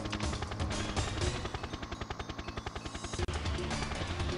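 Rapid automatic gunfire from the GoldenEye N64 game as the player shoots at Xenia, a fast even burst of shots lasting a few seconds, briefly interrupted by a sharp cut before the firing resumes.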